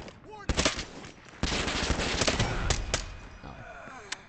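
Automatic gunfire crackles in the Lost Light shooter, with sharp repeated bursts, a loud extended volley in the middle and a few isolated shots near the end.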